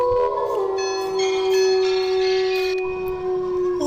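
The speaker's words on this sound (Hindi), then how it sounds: "ये घंटी इधर से आ रही है।" In a Granny horror video game, a bell rings loudly and continuously, its sustained, shimmering tones ringing on without pause and heard alone.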